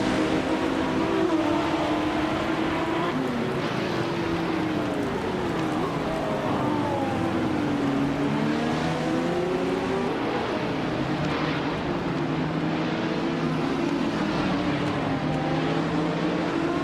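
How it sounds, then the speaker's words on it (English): Lola T70 Mark 1, a 1970 prototype race car at Botniaring in a racing game, roaring continuously with rising and falling engine revs through gear changes, other cars audible around it. "Hingle McCringleberry is driving a Lola T70 Mark 1 UB JTL."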